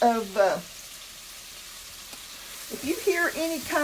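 Soft frying sizzle of onions in butter for crockpot scalloped potatoes, heard faintly in a quiet gap between stretches of a person talking.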